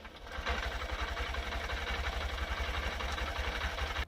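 Honda CB125F motorcycle engine idling while warming up after a clutch spring swap, a steady close low putter with an even rhythmic pulse and no talking.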